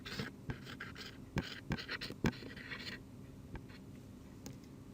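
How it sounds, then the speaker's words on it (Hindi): Pen scratching out English text on paper, close and fairly quiet, with irregular short strokes and taps that fade toward the end. "इसको इंग्लिश में लिखता हूँ"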